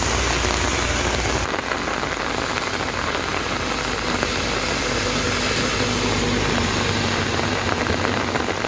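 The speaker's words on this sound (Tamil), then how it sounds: "பெரம்பலூர் மாவட்டம் குன்னம் சுற்று வட்டாரத்தில் 2வது நாளாக பரவலாக கனமழை பெய்தது." Heavy rain pours steadily in the Kunnam area of Perambalur district, Tamil Nadu, a dense, continuous hiss of drops on surfaces with a low rumble underneath, loud and unbroken throughout.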